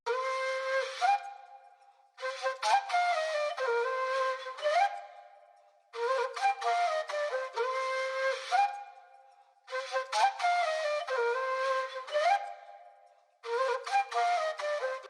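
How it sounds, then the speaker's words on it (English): Original flute phrase sample for the second part of a trap melody, breathy sustained notes in four repeating phrases separated by short gaps, clear and alone. "And then now for the original flute phrase,"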